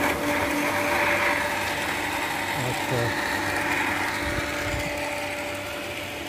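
An electric motor pump drawing bore well water from the ground hums and whirs steadily, running continuously at close range, with a brief spoken word over the mechanical drone.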